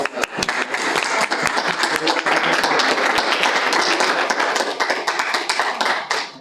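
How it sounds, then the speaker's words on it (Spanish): A talk audience breaks into applause, dense steady clapping from many hands close by, holding level before tapering off at the end. "Bueno, otro aplauso."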